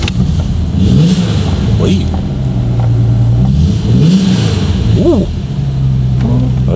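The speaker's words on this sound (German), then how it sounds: "So, wir starten mal unseren V6." A classic Ford V6 at the Classic Days at Schloss Dyck idles loudly and is revved several times in rising and falling bursts, close by, while people talk over it.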